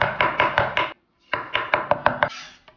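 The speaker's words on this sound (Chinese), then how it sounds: "把双眉压碎剁成蓉" A knife chops crushed sour plums into a paste for steamed snakehead fish, Teochew style, in two quick bursts of sharp rhythmic strokes on a board, about five then seven, separated by a brief pause.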